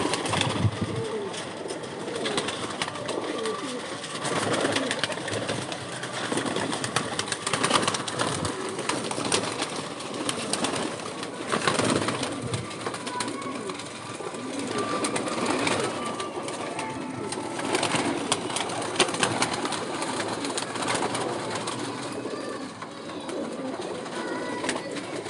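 Pigeons cooing in a loft, a steady chorus of soft, throaty coos layered with rustling and occasional wing movement, continuing throughout at moderate, close-range loudness.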